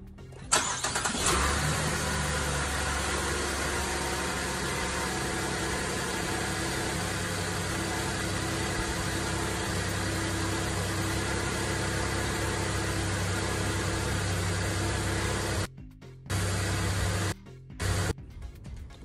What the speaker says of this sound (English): So I'm gonna crank the vehicle up now.